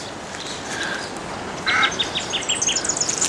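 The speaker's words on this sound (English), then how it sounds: "Oh look, there, a couple of ibises." A couple of ibises call near a pond in Australian bushland with ghost gums, giving a run of harsh honking squawks that start partway in and repeat irregularly over a constant outdoor background.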